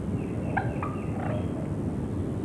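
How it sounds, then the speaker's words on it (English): A wild turkey gobbles in a short rattling burst outdoors, moderately distant, over a steady background rumble of wind or ambient noise. "These 4 birds comprise the subspecies of the American wild turkey."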